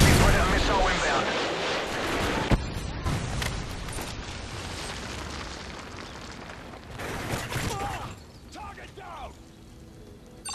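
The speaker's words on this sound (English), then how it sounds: "Friendly Predator missile inbound" A Predator missile strike lands in a 3v3 video game match, with a sharp boom early on amid rumbling blasts and gunfire, while a voice talks over the chaotic battle noise.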